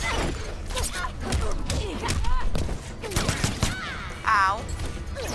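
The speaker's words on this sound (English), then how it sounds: "Oh, bullets." Bursts of gunfire in the video game Mortal Kombat X, rapid shots and thuds layered with game effects and a warbling tone near the end, all fairly loud and close.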